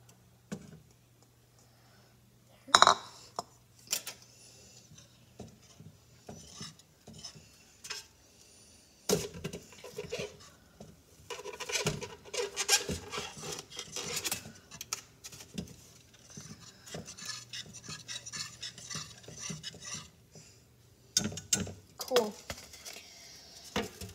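Sausage being stirred in a pan over medium heat while making breakfast, scattered scraping and tapping of a utensil against the pan with irregular clatters and faint sizzling, up close, with a person talking at times.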